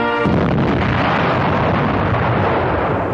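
A 2,000-pound bomb dropped from 10,000 feet bursts on impact at a proving ground, giving a loud, sustained roaring blast that fills the whole clip with dense rumble and no voices.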